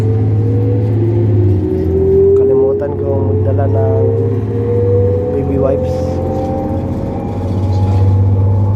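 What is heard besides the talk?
bus engine while riding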